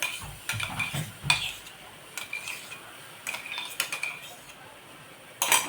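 Banana paste being stirred into roasted flour in a pan, with repeated scraping and clinking of a metal spoon against the pan over a faint background hiss, irregular strokes close by and a sharper clatter near the end.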